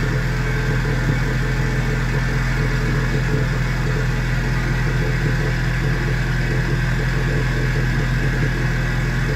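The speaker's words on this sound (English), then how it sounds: "Give her a couple revs real quick." Straight-piped Ford Focus RS engine running loud and raw throughout, a steady rumbling exhaust note at close range with mild revving and no speech.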